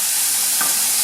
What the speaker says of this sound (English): That is the sound of your vegetables not sticking to your pan.